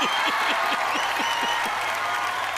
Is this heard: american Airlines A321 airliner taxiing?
no